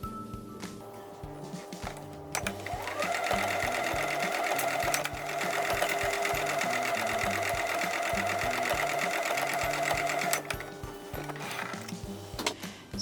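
Sewing machine stitching a quarter-inch seam on quilt pieces, its motor whirring up into a fast, steady run of needle clatter for several seconds before slowing and stopping, close and alone.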